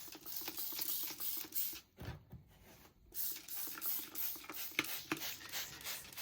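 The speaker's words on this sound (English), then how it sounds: "I'm just gonna spray it with water" A spray bottle mists water onto a newsprint paper cover, giving repeated short hissing bursts with quiet gaps between them, close and fairly soft.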